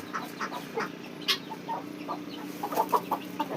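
Brown hens clucking softly near their nesting spot, with scattered short clucks and murmurs, fairly quiet and close, with no talking.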